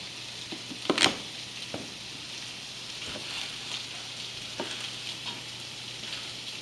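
Tomato sauce made with canned tomatoes simmers in a pan with lemon zest and herbs, giving a steady soft sizzle and bubbling with a few faint utensil clinks, and no one talks.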